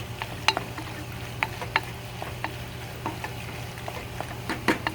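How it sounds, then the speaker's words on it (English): Chili being stirred in a pan for a chili cheese fry mac and cheese burger, with a steady low sizzle under scattered scraping clicks from the spoon, fairly close and moderately loud, no one talking. "Okay, we'll stir that up."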